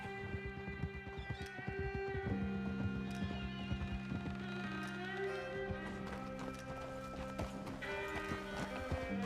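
Horse hooves clip-clop at a steady trotting rhythm in Red Dead Redemption 2, close and continuous under a sustained musical score, with an occasional snort-like accent.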